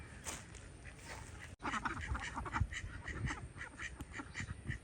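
Several ducks quack repeatedly at close range at the edge of a pond, their calls overlapping in a steady, chattering rhythm.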